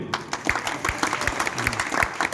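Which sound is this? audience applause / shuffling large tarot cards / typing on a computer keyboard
audience applause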